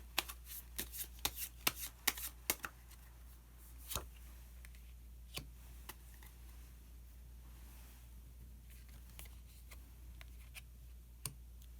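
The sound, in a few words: shuffling and drawing Osho Zen tarot cards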